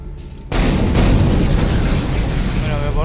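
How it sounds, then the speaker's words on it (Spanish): Loud, continuous explosions roar in the Dead Space video game, with a deep rumbling blast that starts abruptly and keeps going for a few seconds after a brief quieter lead-in. "Si están puras explosiones"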